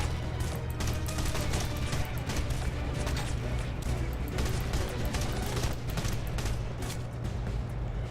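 Pistol and rifle gunfire in the Red Faction Guerrilla video game, a dense, continuous barrage of loud shots and crashing impacts filling the whole stretch, with no talk over it.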